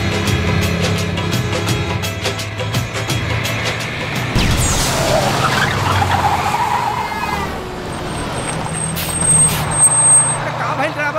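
A bus on a road pulls to a halt with a sharp air-brake hiss and rumbling engine, followed by idling, clatter and passing traffic noise, with voices talking in the background.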